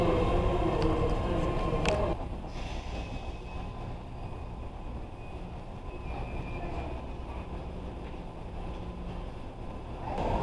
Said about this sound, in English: we're at Oakland. Oakland train station.